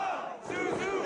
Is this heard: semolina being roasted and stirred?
no